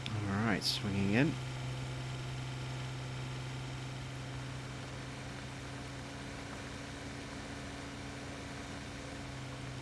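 A vehicle engine in the Farming Simulator 17 video game runs with a steady, labouring drone, briefly mixed with a short rising-and-falling tone at the start, then holding an even hum alone.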